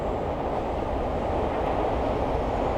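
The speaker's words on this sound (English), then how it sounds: "trains." A train rolls along the rails in Japan, a steady, loud broadband rumble that holds evenly for the whole stretch with no talk over it.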